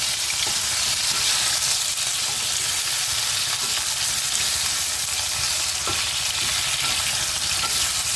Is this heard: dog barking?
no